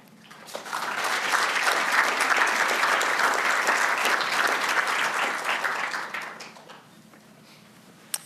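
An audience at an architecture lecture applauds to welcome the speaker, warm sustained clapping that builds quickly, holds for several seconds and then fades out.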